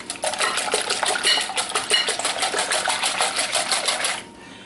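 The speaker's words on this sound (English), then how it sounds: "And to that, I'm going to add a cup of milk. I'll whisk that." A whisk beats a cup of milk into egg batter for crepes in a bowl, a fast, even run of rhythmic clicking strokes, close and loud, stopping abruptly near the end.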